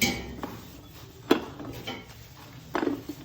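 A mixed mushroom and minced pork salad being stirred in a bowl produces a few sharp utensil clinks and knocks against a quieter background of mixing.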